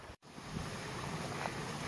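Creek water flows near a waterfall in a canyon in Kings Canyon National Park, a steady broad rushing hiss after a brief dropout at the start, moderately loud and constant with no voices.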